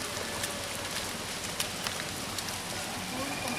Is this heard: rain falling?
yes